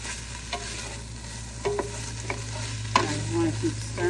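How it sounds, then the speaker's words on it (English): Onions being stirred in a pan over medium-low heat, a quiet steady sizzle with scattered scrapes and clinks of the utensil against the pan bottom. "I want to keep stirring it so it doesn't stick to the bottom of the pan."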